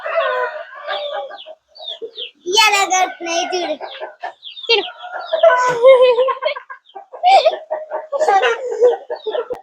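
Roosters and hens on a farm call close by in overlapping bursts of clucking and crowing-like cries, loud and nearly continuous for several seconds.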